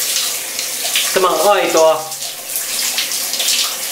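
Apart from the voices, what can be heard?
shower water running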